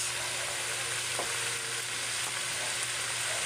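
Food frying in a pan makes a constant broad sizzle and crackle throughout, with one faint stirring knock partway through and no voices.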